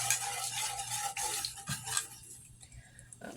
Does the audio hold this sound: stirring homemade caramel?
yes